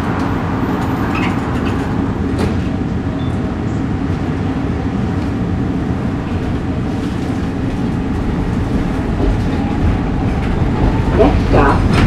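Aboard M4 car 1062 on a 69th Street-bound Market-Frankford Line train, a steady loud rumble of running wheels and motors continues throughout, with a faint whine and occasional rattles.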